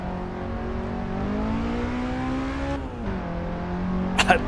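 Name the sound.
Toyota Sera TRD racing up Pikes Peak, video game Assetto Corsa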